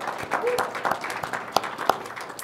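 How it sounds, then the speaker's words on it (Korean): A church congregation claps in thanks during a worship service, a scattered, moderately distant applause with sharp isolated claps standing out near the end and a faint voice underneath. "우선 지난 한 해 우리를 인도하신 하나님께 영광의 박수를 돌렸으면 좋겠습니다."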